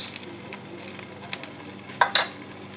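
Burdock and milkweed stir-fry in a pan, with a soft, steady sizzle punctuated by a few sharp stirring scrapes near the end.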